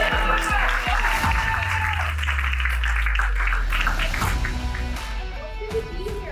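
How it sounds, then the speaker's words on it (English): Audience applause for a speaker at a conference, loud and sustained across the whole stretch, mixed with crowd noise and some cheering, gradually tapering toward the end. "Give her a clap."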